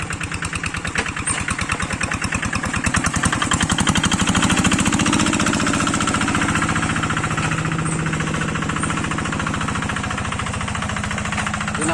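A small engine that has dropped into a hole revs hard and steadily for the whole stretch, loud and close, with a rapid chattering pulse that swells in the middle and then holds.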